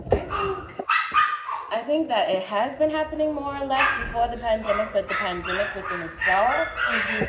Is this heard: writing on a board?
no